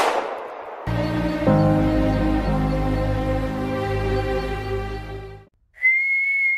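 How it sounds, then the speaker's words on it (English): A cartoon piglet character gives a clear, steady high whistle lasting under a second, after a loud buzzing tonal roar of a toy rocket scene cuts off into brief silence. "George can whistle."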